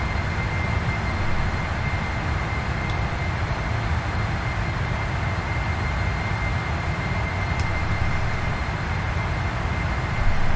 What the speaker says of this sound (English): as you start to get higher in the plane, it gets quieter